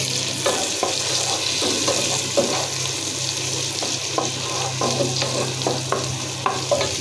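Mustard oil for pulao sizzles steadily in a pan, a continuous bright hiss with scattered crackles and pops, near and alone.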